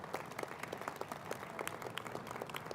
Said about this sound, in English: Please join me in giving one last round of applause for the recipients of the 2016